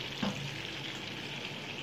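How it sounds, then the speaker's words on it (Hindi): Pieces of fish, already turned once, fry quietly in a pan for biryani, making a faint, even sizzle with a single soft clink near the start. "ये देखिए मछली मेरी एक तरफ से हो गई है तो पलटा दिए, दूसरी तरफ से पक रही है"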